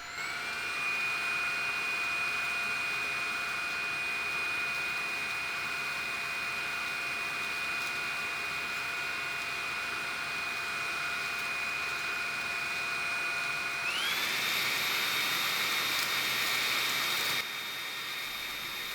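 A Dreame V11 cordless stick vacuum runs steadily at higher power, a constant whine over broadband rush with no voices, then about fourteen seconds in the motor pitch steps up sharply and grows louder before cutting off near the end.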